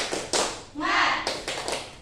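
A group of children in a classroom claps in a quick patterned rhythm, short bursts of claps close by, with voices chanting along between them.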